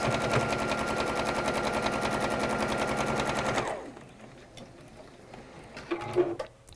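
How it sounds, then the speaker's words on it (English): Sewing machine stitching a plain square into a corner piece, running steadily with a rapid rattling rhythm for several seconds before stopping, then a few quiet handling sounds. "We're just sewing the plain square into that one to make the corner"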